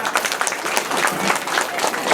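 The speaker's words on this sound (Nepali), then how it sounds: "उहाँहरूलाई विशेष स्वागत गर्नको लागि सबैले ताली बजाएर" A crowd claps steadily to welcome guests at a Dumi Kirat Rai community programme in Dharan, dense and continuous applause filling the room at close range.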